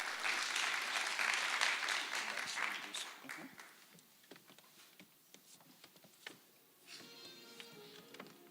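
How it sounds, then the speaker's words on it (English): Conference audience applause rises loud at first, then tapers into sparse, scattered claps, with a voice beginning to speak over the fading end. "a wonderful round of applause"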